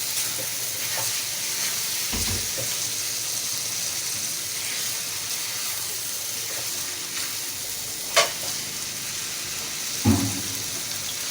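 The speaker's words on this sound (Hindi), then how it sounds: "अच्छी तरह फ्राई करेंगे इसको।" Goat liver with finely chopped green chillies frying in a pan, a continuous close sizzle with a few louder spoon scrapes and stirs.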